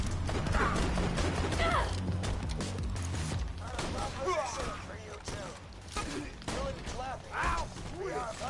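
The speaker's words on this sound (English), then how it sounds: "threw the grenade back at me" Grenade blasts and gunfire in the shooter Borderlands 2, a dense, loud clatter of shots and bursts over a rumbling game soundtrack, with voices talking over much of it.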